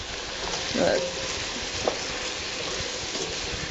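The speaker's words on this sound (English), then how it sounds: "just stir it in to the vegetables and let it cook for a minute" Barley grains being stirred into cooking vegetables in a pan, a steady low sizzle with a brief scrape or two of the spoon, moderately close and fairly quiet.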